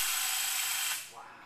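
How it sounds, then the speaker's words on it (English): A Graco paint sprayer motor runs on water, a loud, dense whirring buzz that drops and slows in the last half-second. "So you heard the motor slow down because this is less viscous material."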